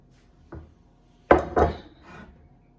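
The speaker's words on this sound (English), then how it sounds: "So I'm just going to get chopping these up" Three knife strokes on a board chopping celery, a light one followed by two louder, close chops in quick succession, then a soft scrape.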